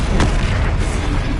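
A fire spell cast during combat in the Hogwarts Legacy video game, a single loud whooshing burst near the start that is followed by a dense, roaring blaze of crackling flame that fills the whole moment.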